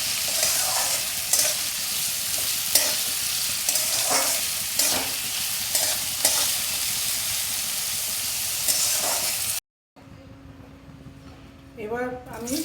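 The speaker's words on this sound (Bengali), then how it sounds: "সব সবজিগুলো দিয়ে আমি একটু হালকা ভেজে নেব।" Mixed vegetables fry lightly in oil with a little salt, making a steady close sizzle broken by stirring scrapes, then the frying cuts out and only quiet kitchen sounds follow.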